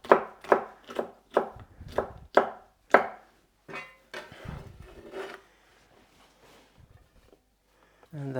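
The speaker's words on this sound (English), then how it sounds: "I have 3 different colored peppers here that I'm gonna slice up for my fajitas" Coloured bell peppers are sliced for fajitas on a cutting board, about seven crisp, evenly spaced knife chops up close, then a few softer cuts and scraping before a pause, with a voice briefly heard.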